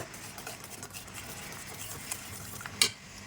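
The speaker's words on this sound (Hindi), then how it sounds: "इसकी अब बहुत ही अच्छी भुनाई करेंगे।" Cheese chicken stir-frying in a pan, a soft continuous patter and scrape of stirring with a few sharp clinks of utensil against the pan near the end.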